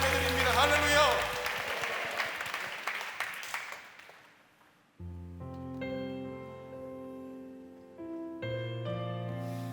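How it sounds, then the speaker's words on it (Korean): A church congregation at a prayer meeting breaks into brief, fairly loud clapping that fades within a few seconds, giving way to sustained keyboard or organ music. "영광의 박수를 드립니다"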